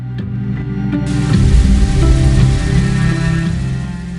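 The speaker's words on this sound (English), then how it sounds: "For 15 days, the rain was unceasing" Steady rain falls in a dense, even hiss with low rumbling underneath, loud and close, swelling slightly in the middle and holding constant throughout with no voices.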